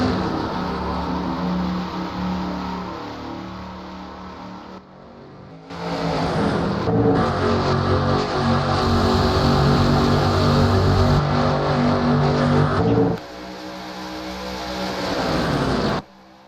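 Stock cars race at Talladega just after a restart, a loud dense roar of many engines that swells as the pack passes close and then fades, with no talking.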